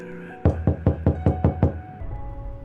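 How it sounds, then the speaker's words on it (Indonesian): Seven loud, evenly spaced knocks on a door in quick succession, close and sharp, then fading into low background noise. "Bunyi ketukan berkali-kali terdengar nyaring"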